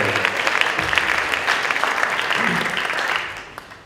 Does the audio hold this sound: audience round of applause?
yes